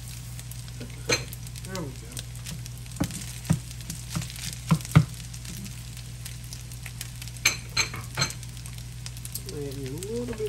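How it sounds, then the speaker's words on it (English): Rice frying in olive oil on a stovetop, a steady sizzle under scattered scraping and stirring clicks, with a few brief spoken words. "add another couple of tablespoons of olive oil in there. Some more rice going on in there."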